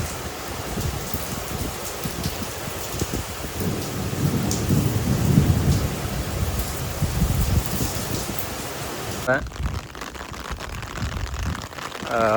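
Thunderstorm in Japan, with steady rain falling throughout and a deep rolling thunder rumble swelling near the middle, heard alone with no voices.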